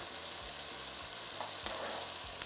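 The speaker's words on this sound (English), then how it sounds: "now I'm gonna add in my chunks of eggs" Chunks of egg tumble into a hot frying pan and get stirred through the oil, giving a steady close sizzle with soft scraping pushes and a couple of sharper clinks near the end.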